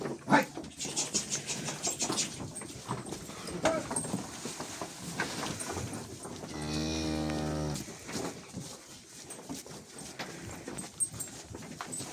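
Calves and cattle in a barn munch straw with scattered rustling and chewing noises, broken by one loud, close moo lasting a couple of seconds.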